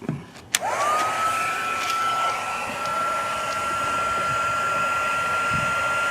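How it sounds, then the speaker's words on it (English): Small heat gun switched on with a click, then blowing hot air steadily with a high whine as it rises to speed, used to shrink tubing on speaker wiring in a 2002 Tahoe rear door. "You gotta fire your heat gun up."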